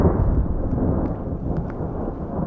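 Deep rumbling thunder rolls continuously from an Arizona lightning storm striking nearby, a broad low roar filling the air with faint patter mixed in, heard outdoors beside an RV.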